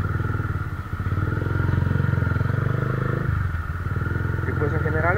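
A 170z motorcycle rumbles steadily while being ridden, its engine note loud and continuous with a rhythmic pulse, dipping briefly before rising again, under a rider's ongoing talk.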